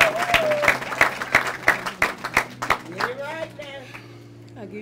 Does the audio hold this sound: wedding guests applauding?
yes